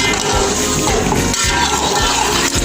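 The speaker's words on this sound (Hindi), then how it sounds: "अब इसमें हमने जो यखनी बनाई थी वो ऐड करेंगे," Yakhni stock poured into a pot of Punjabi pulao, a loud continuous rush of liquid lasting the whole short moment with no voices.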